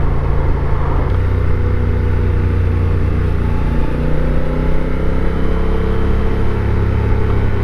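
Honda Africa Twin engine in a bike with 17-inch wheels, heard from the saddle while riding: a steady, loud low drone with wind rush throughout.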